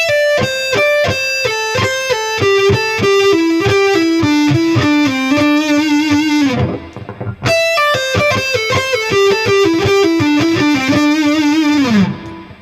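A distorted electric guitar runs a minor pentatonic sequence in steady, evenly picked notes that step downward, played twice in a row with a brief gap between the two passes, loud and alone.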